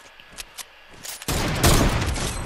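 A sniper quickscope shot in Fortnite cracks out loud and sudden partway through, followed by a sustained burst of loud combat noise after some quieter sharp taps.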